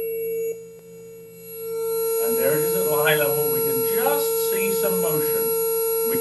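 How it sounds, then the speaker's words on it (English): A steady, pure sine tone hums continuously, driving a vibration shaker, while someone talks over it. "Let me increase the power to the shaker and see if we can see it moving."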